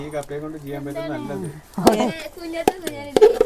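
Food is pounded and crushed in a pot, heard as a few sharp, irregular thuds and knocks in the latter half of the clip, while someone speaks throughout.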